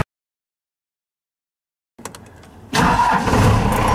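A 4BT Cummins diesel engine cranks and starts in 32 °F cold with its block heater in use, following two seconds of silence, then catches and runs loud and rough up close.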